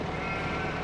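A sheep bleats in the Farming Simulator 15 farm game, a single short, faint call over a soft steady background.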